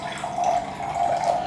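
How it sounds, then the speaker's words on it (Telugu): RO-purified water poured straight into a glass, a steady close pouring and splashing stream that runs without pause. "వాటర్ గ్లాస్లో వేస్తున్నాం చూడండి"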